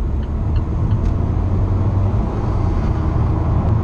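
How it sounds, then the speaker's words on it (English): Steady engine drone from inside an Alfa Romeo 4C Spider with a faint high turbo whine riding above the low rumble, continuous and fairly loud. "Oh, I love that turbo whine."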